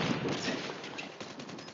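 Gunfire rattles in a Call of Duty bomb-plant match as a rapid volley of shots rings out. It is fairly faint and mid-distance, running continuously through the short stretch.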